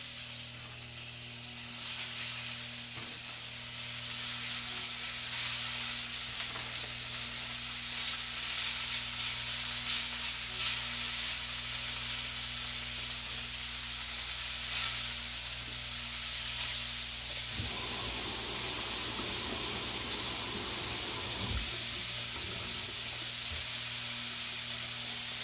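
Lamb sears in hot oil in a pan for a curry tagine, giving a loud, steady sizzle and hiss that runs the whole time, joined later by low clatter and scraping.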